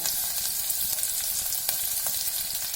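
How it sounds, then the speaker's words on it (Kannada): Mustard seeds, garlic, onion and curry leaves fry in hot oil for a tomato gojju, giving a steady, close, loud sizzle with small crackles and stirring scrapes and no talk. "ಗೋಲ್ಡನ್ ಬ್ರೌನ್ ಬರೋ ತನಕ ಫ್ರೈ ಮಾಡಬೇಕು."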